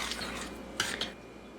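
A few light scrapes and clinks of a utensil stirring dry flour and sugar in a mixing bowl, brief and close, with no talking.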